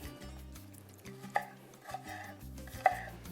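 Knife cutting nopales cactus pads on a kitchen board: a few sharp, separate chops spaced about half a second to a second apart, heard over steady background music.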